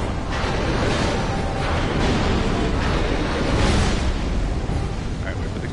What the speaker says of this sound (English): Alright, wait for the explosion.